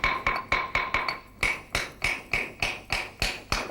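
A knife chops vegetables into small pieces on a board, about fifteen sharp, evenly spaced knocks in a brisk steady rhythm, close and fairly loud, with no talk.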